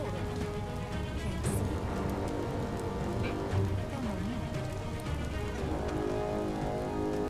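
Steady rain falls outside in the video game Biomutant, a constant close hiss with soft tonal game sounds layered underneath.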